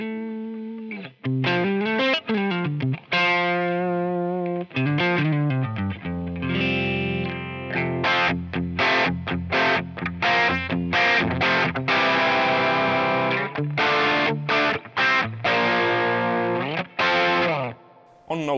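An electric guitar plays through a Rat distortion pedal with the distortion turned down and the volume up, giving sustained chords and single notes with sharp attacks, loud and close, with no talking.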